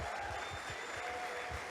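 A church congregation applauding, a faint steady patter of many hands clapping heard from a distance.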